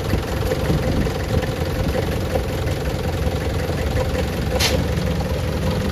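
A Mitsubishi 4M42 diesel engine idles roughly with strong vibration, a steady dense clattering rumble heard close throughout, with one brief high squeak partway through and no voices.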